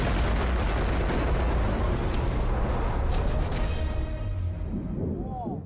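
An explosion destroys a stockpile of enemy ammunition, a massive, sustained roaring blast with deep rumble and crackling debris that gradually fades.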